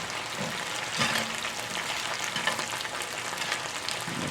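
Sausage frying in a pan on a home stove for a Southern-style meal, a steady, fairly close crackling sizzle that runs throughout with a few brief clatters, no talking.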